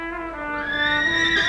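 A horse neighs in its stable, a single long whinny with a rising, wavering tone that grows louder toward the end, close and clear with no talk.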